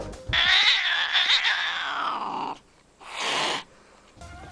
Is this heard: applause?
no